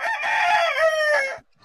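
A rooster crows loudly and close by, one long sustained call lasting over a second before cutting off into near silence.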